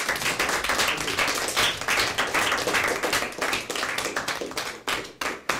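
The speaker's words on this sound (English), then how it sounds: "I'd like you all to give the players a big round of applause" A room full of people claps for Huddersfield Town football players at a community session, brisk close hand claps forming a loud sustained round that thins toward the end.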